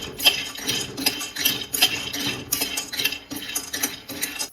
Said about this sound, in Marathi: तर यामध्ये घालून घेते बदाम। बदाम आपण हलके थोडेसे भाजून घेऊया।